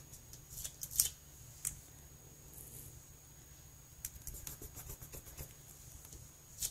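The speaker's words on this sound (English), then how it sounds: "So I'm going to cut this off for what I need." Scissors cutting light blue mirror card: a few soft, quick snips and papery rustles close by in a quiet room, with the louder snips near the start and end.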